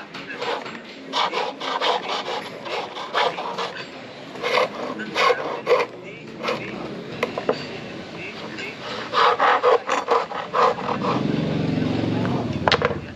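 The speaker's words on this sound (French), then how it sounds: "Regardez la perceuse berbère" Rhythmic scraping and rasping of a Berber hand drill boring into wood in Morocco, repeated strokes in uneven bursts, close by, with a voice talking intermittently.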